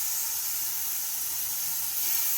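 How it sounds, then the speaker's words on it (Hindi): Chicken pieces sizzling in a hot nonstick pan for chicken tikka, a steady, loud hiss with no break and no voices. "अब चिकन जो है मैंने डाल दिया है पैन में।"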